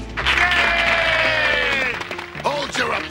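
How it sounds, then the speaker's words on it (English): Cartoon henchmen in a Super Mario Bros. Super Show episode break into brief cheering and clapping, with a voice talking over and around the crowd noise. "Hold your applause."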